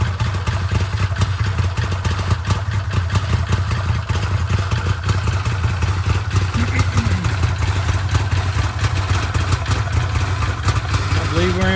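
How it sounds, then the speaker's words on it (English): Wildcat X engine idling choppily after a starter upgrade, a loud, close, uneven chugging that runs without a break, with someone talking over it now and then. "You can hear the choppy idle on this thing."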